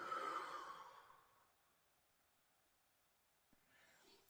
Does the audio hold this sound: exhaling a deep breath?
yes